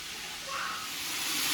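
A steady hiss of food sizzling in a hot pan, growing slightly louder, with no one speaking.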